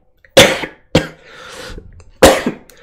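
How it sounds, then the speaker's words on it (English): Three sharp coughs close to the mic, the second followed by a softer breathy rasp, with short pauses between bursts. "sorry for that cough."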